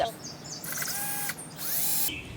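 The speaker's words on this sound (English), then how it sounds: "you need a little drill bit that has a pointy end so that you can make your hole" Two short bursts of a high-pitched whirring drill with a pointed bit making holes in a plastic bucket, each lasting under a second, separated by a pause, close to the listener.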